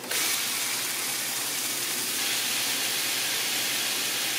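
Ground turkey sizzling in a skillet for an easy lasagna skillet dinner, a loud, steady hiss of frying meat that runs continuously throughout with no talking.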